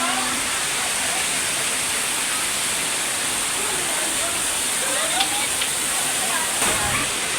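Lagting Falls on Sibuyan Island, Romblon, pours as a constant loud hissing rush of water, with faint voices and brief sounds under the roar.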